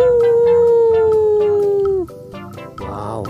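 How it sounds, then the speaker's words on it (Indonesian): A toy wolf gives a loud electronic howl, one long falling tone that runs about two seconds before dropping off into softer toy noises, with no talking over it. "Wow, yang ini serigala."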